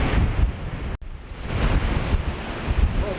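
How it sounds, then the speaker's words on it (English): Surf breaking on the Kildonan shore, Isle of Arran, at high tide, with strong wind buffeting the microphone in a loud, continuous roar and a brief dropout near the start. "see what the sea and the wind really sound like"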